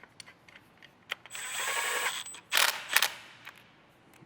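A power tool runs in 10mm bolts on a K20C1 engine being prepared for an S2000 swap. It gives a sustained whir of about a second, then a louder short burst with ratcheting clicks, close by.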